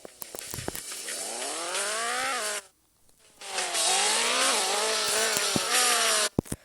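A car engine in a racing video game's traffic mode revs loudly through rising and falling gear sweeps, cuts out briefly for a moment of near silence, then roars again with more shifting pitch swells before a sharp stop.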